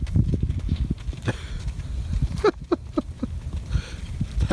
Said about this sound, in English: Cows walking through.